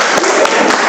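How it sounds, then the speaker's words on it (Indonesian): Students applauding in a classroom, a short burst of loud, dense clapping from a group close by. "Yuk kita aplaus."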